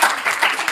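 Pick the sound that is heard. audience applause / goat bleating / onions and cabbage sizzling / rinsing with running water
audience applause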